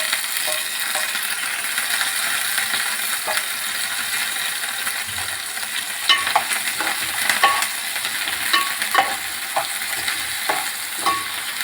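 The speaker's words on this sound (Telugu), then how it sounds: "నూనె కాగింది ఫ్రెండ్స్, ఉల్లిపాయ పచ్చిమిర్చి అయితే వేస్తున్నాను" Onions and green chillies frying in hot oil make a continuous, moderately loud sizzle, with a scattering of sharp crackles and pops in the second half.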